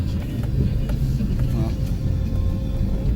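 A Ford F-250 pickup truck creeps along slowly on a cold engine, giving a steady, close low rumble that holds level for the whole stretch.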